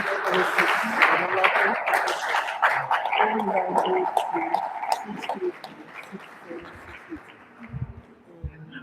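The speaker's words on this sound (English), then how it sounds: "Keep clapping." Audience clapping at a live neuroscience school session, moderately loud applause under a speaking voice that fades out over the second half.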